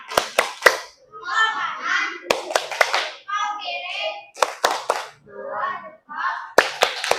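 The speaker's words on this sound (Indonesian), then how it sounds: "Tepuk tangan semuanya buat temannya." Children's voices chanting in rhythm, broken up by sharp, close hand claps that come in quick bursts of three or four.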